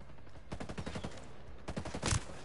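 Shotgun fire in the video game Ghost Recon Breakpoint, heard as a rapid series of close, sharp blasts in two clusters, with a heavier final shot.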